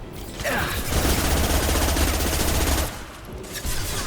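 Sustained automatic gunfire rattles in the video game Mass Effect 2 as a dense, loud burst of rapid shots fills a few seconds, then briefly drops before resuming.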